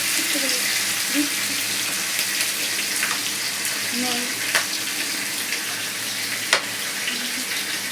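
Pieces of food being fried one by one and stirred in a pan for a home lunch, salt to follow, give a steady broad hiss of sizzling with occasional sharp clicks and faint tonal traces of a voice in the background.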